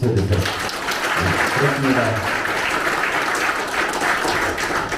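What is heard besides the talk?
applause from an audience at a campaign committee ceremony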